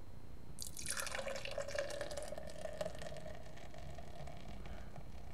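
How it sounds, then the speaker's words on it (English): Märzen beer poured slowly from a bottle into a frosted glass, a thin trickling stream with foamy fizzing that begins after a short quiet start and continues steadily and softly to the end, with no voices. "Pour it slowly here."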